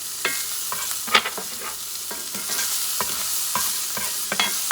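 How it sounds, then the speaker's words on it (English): Shallots sautéing in a pan over medium heat for steak au poivre, a soft steady sizzle broken by several sharp scraping stirs, close by and with no talking. "I'm going to add the shallots. Going to saute this baby."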